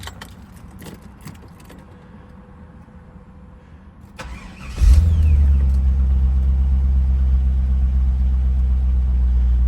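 Faint clicks and a quiet hum, then a 2001 Chevrolet Corvette engine cranks and catches, settling into a steady, deep idle rumble nearby.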